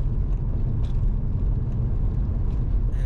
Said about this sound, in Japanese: もう聞いて分かるようにいろいろガタガタガタガタ、もうボロボロの車なんですけど